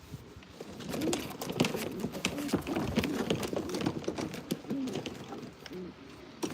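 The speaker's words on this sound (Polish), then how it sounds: "także przepiękny gołąb linia Jansen Voss" Low coos from Janssen breeding racing pigeons repeat under a clatter of wing flaps and shuffling, fairly close, with soft cooing phrases recurring throughout.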